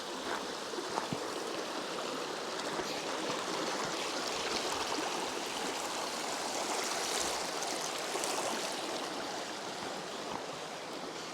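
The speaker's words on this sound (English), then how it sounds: "First we need to cross this river, to be fair." A river rushes over rocks at a stepping-stone crossing in the Cairngorms National Park, a close, loud and steady broadband flow that runs unbroken throughout with no talking.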